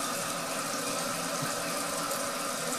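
A Toto toilet gives a small flush and refills, rushing water running steadily and close with no break.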